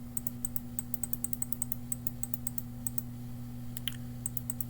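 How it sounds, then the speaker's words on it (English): A single computer mouse right-click on an icon, set against steady faint keyboard-like ticking and a low electrical hum, no talking. "I'm going to right click on any icon."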